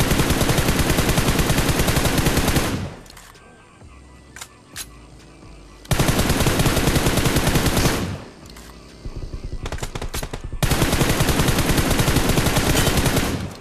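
Automatic gunfire in BGMI aimed at a buggy's tires: long, loud sustained bursts repeat three times, separated by brief lulls with a few isolated shots, close and harsh.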